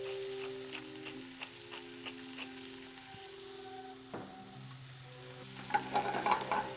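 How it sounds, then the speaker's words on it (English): Italian sausage sizzles steadily in a hot pan while tagliatelle is prepared, with soft crackle and pops and a brief burst of louder spitting near the end, beneath faint kitchen background tones. "now you see how the sausage is still roasting already?"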